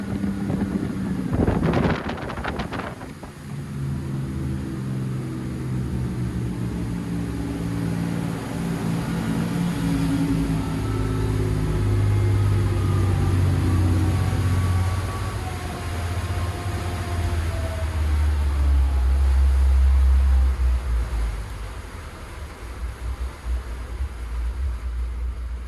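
A Regal 3560 Commodore powered by twin Volvo Penta KAD300 diesels running flat out at about 4,500 RPM, a loud, sustained engine roar mixed with heavy wind buffeting and rushing water, with a brief clatter near the start.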